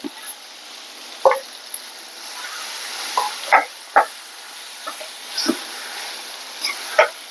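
A ground green banana chutney mixture stirred in a pan, with a low steady sizzle and a series of intermittent scraping and tapping strokes from the spoon, close and moderately quiet.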